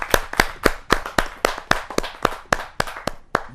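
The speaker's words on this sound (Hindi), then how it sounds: "जोरदार तालियों के साथ हम उनका स्वागत करें" An audience at a Hindi kavi sammelan claps to welcome a poet, heard up close as a loose, steady run of about a dozen sharp handclaps, loud and with no talking.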